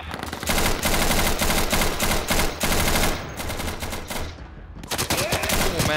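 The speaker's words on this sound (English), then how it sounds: "Oh, taking heavy fire there." Heavy gunfire in the Insurgency video game: loud, dense bursts of automatic fire crackle almost without pause, overlapping shots from several weapons, with a short lull near the end before the firing resumes.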